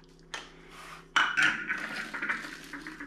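A lid from a budget lightweight camping cookset is handled, giving a few close metallic clanks and scrapes, then a burst of rattling clinks that fades out, with no talking.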